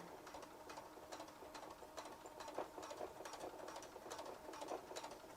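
A sewing machine stitches a simple zipper pouch, running in quick rhythmic bursts of needle clatter with brief pauses between runs, quiet and close with no talking.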